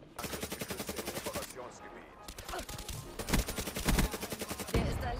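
Rapid automatic gunfire from a weapon in Black Ops 3, sustained bursts of dense, close shots with brief pauses between them.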